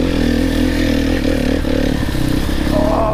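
An enduro dirt bike runs through long grass, its engine droning loud and close with steady revving, plus grass brushing and rattling clatter from the ride.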